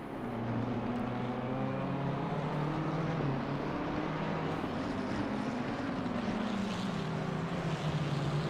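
Racing cars in the 24 Hours of Spa endurance race in a racing video game, including a McLaren, as a steady loud engine drone with rising and falling pitch sweeps as cars pass close by, with no talking.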